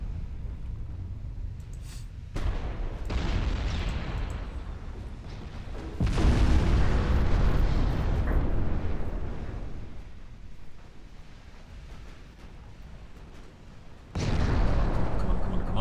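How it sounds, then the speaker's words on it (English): Naval guns fire at cruisers during a sea battle in Ultimate Admiral Dreadnoughts, with loud, heavy booming salvos at about 2, 6 and 14 seconds that roll off into a rumbling sea ambience. "I thought these guns would actually rip apart these cruisers by now"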